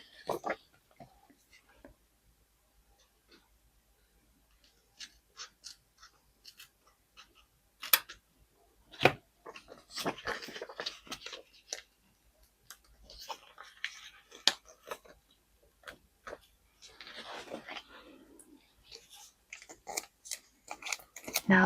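Scissors cut along a sheet of planner stickers from a deluxe sticker book, giving a run of close, uneven snips and paper rustles with brief pauses between strokes.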